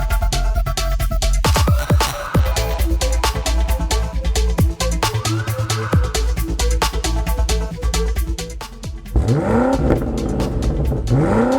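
A 2024 BMW X5M Competition's V8 revs and accelerates hard, loud and close, with rapid gear changes, rising engine pitch and crackling bursts between pulls.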